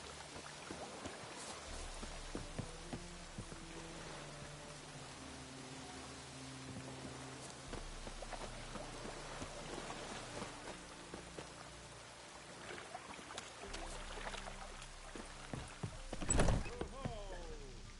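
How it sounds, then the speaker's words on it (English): Rain conjured by witches in a PS4 game falls as a continuous hiss of drops, with clopping hooves and brief voices underneath and a sharper burst near the end. "Witches have conjured rain."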